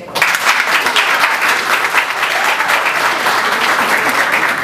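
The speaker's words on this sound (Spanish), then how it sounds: "Un aplauso." Guests at Francisco Tapia's birthday party break into loud, close, sustained applause that continues evenly throughout, thick with overlapping claps.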